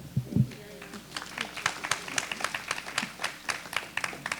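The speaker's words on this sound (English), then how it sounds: "let's give them all another round of applause" Applause for award recipients at a school district board meeting: a brief voice, then a room of people clapping in a quick, steady patter that carries on for several seconds.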